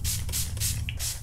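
Several quick hisses of poly T pretreatment sprayed from a bottle onto cotton shirts, four short bursts in a steady rhythm, close and clear.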